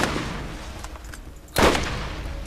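Gunfire in Borderlands at Fyrestone, a steady wash of muffled shots ending in one loud sharp report near the end, with no talking.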